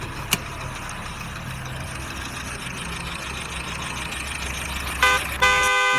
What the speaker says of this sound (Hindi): ये कार काफ़ी ज़्यादा नॉइस कर रही है।